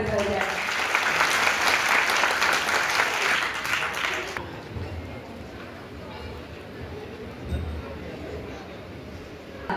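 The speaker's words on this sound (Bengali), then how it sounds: "করতালি হয়ে যায়" An audience in a hall applauds loudly at a district children's day programme after a ceremonial lamp lighting, dense clapping that fades to a lighter patter and background murmur partway through.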